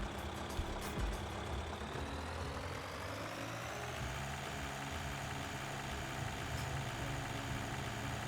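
A farm vehicle engine in Farming Simulator 2013 drones steadily and loudly, its pitch easing downward partway through as it throttles down, with no talking.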